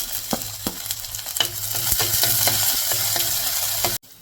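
Crushed garlic, bird's eye chillies and shallots fry in hot oil, giving a loud, close sizzle with rapid crackling pops and stirring clicks that cuts off abruptly at the end.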